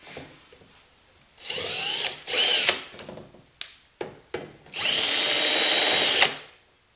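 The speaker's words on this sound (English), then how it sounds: "we'll be able to just flip the rack open and drill the rest of the holes." A power drill runs in several bursts, some short and some longer, with a high whine and pauses between them, drilling holes for an FJ Cruiser folding roof rack.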